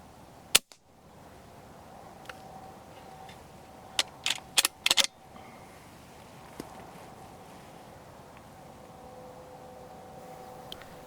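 Air rifle shots while decoying wood pigeons in the rain: a sharp crack early on, then a tight cluster of several quick snaps a few seconds later, over a constant bed of rain and outdoor noise.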